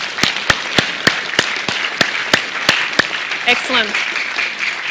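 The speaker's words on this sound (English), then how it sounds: "A round of applause for that." Applause and hand claps from a small audience at a science demonstration on quantum computing, with sharp evenly spaced claps standing out over a steady patter, plus a brief voice partway through.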